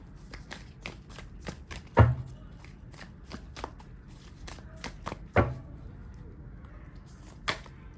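An oracle card deck is shuffled and cards are drawn by hand, giving a steady run of quiet riffling flicks with two sharper slaps and a final snap, close by and without talk.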